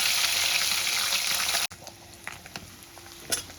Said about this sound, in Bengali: এবার আমি মাছগুলো এক এক করে ভেজে নেব।